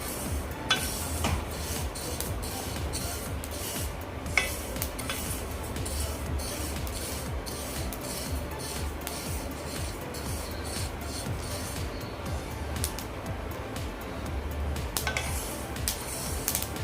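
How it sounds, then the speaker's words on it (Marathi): Sesame seeds dry-roasting in a pan for tilgul ladoo, stirred continuously; a dense scratchy rustle runs throughout, dotted with small crackles and pops. "यामधून आता चट चट असा आवाज यायला लागला आहे"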